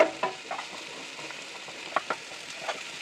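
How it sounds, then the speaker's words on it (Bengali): Ginger, garlic and onion frying in oil for a tempering over mashed potato: a close, steady crackling sizzle with several sharp ladle scrapes and taps against the pan. "এখানে আমি আদা, রসুন এবং পেঁয়াজ দিয়ে বাগার দিব।"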